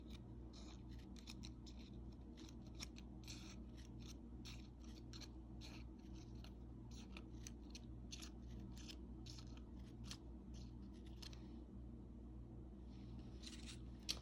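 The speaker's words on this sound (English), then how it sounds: "I'm going to take my precision scissors, and I'm going to cut in between each petal ever so slightly." Small precision scissors snipping paper flower petals in quick, repeated little cuts, close and quiet over a low steady background hum.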